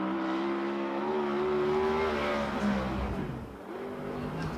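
A USAC/CRA sprint car, number 29, runs a qualifying lap on the Perris oval, its loud engine droning steadily and rising in pitch before easing off near the end.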